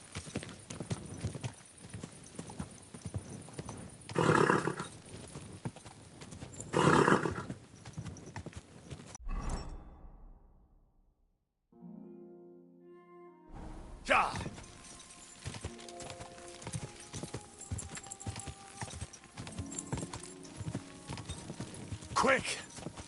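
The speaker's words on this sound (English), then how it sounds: "Easy, good horse." In the video game Kingdom Come: Deliverance II, a horse's hooves clip-clop in a steady rhythm, with an occasional whinny and some voices. A brief quieter stretch with a tonal sound occurs midway before the hoofbeats return.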